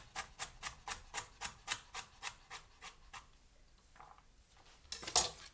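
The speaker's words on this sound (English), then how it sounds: "my knife is not leaving the board" Knife chopping vegetables on a cutting board, a dozen even rhythmic rocking taps in quick succession, close and crisp, followed by a quiet pause and a brief scraping sweep across the board.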